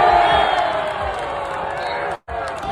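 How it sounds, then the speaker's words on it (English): A large stadium crowd roars for a New York Jets preseason touchdown pass, a loud, steady wash of cheering that drops out abruptly for a moment near the end before resuming. "Good crowd pop, too."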